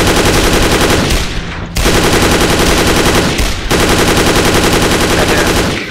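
A hand cannon in the Dead Effect 2 video game fires in long, loud, rapid bursts of continuous shots, broken by two brief pauses.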